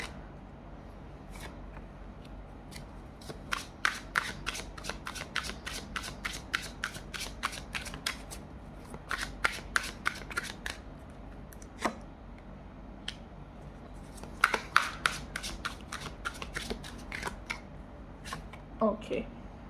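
Tarot cards are shuffled by hand in a quiet room, with rapid, close, crisp riffling and flicking clicks in repeated bursts.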